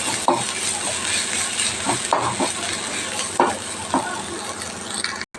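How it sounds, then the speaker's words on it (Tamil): Mudakathan leaves crushed with pepper, cumin and garlic sauté in a hot pan, a steady sizzle broken by several short scraping stirs of a spatula, close and fairly loud with no talk. "நல்லா கொஞ்சம் வதக்கணும்"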